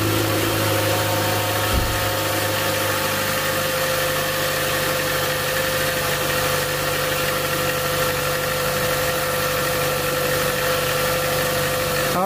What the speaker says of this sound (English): let's give this thing a crank and see how it goes. Listen to the noise.